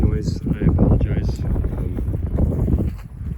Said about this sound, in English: It's a bit windy. Hopefully there's not too much wind noise.